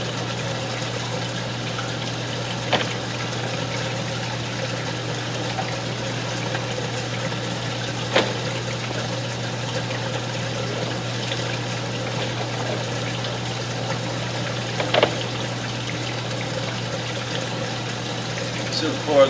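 Water runs through a rusty sewer line beneath a house in a steady, continuous rush over a low mechanical hum, broken by a few faint knocks.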